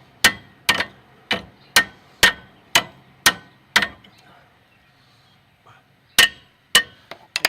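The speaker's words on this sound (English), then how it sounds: "You just want to take your hammer." A hammer strikes a tie rod on a Pontiac G6 during suspension work in a series of sharp, ringing metal blows at a steady pace, pauses, then resumes with a few more hits.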